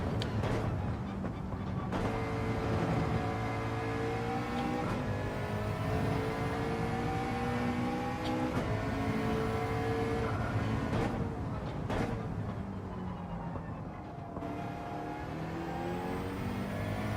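A McLaren race car in Gran Turismo 7 drones steadily under load, its engine note climbing through gear changes with a continuous, close whine that holds throughout with no one talking.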